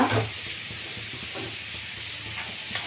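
Onions frying in a pan with a little coriander for a rainy-season dish give off a steady, fairly quiet sizzle that holds evenly throughout, with a soft clink of stirring near the start.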